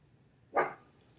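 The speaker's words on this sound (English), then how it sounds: "I'm sorry for the barking." One brief bark from a dog rings out once, moderately loud and nearby, with near silence before and after.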